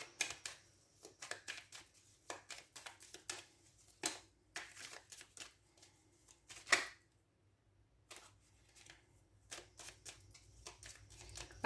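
Tarot cards being shuffled and drawn at a reading, a close run of quick dry flicks and snaps in irregular bursts, with a louder slap near the middle and a brief quiet pause afterward.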